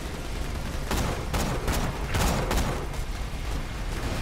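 Rapid gunfire from the video game Borderlands 2, a run of repeated bursts of shots and blasts over a dense, continuous layer of game noise.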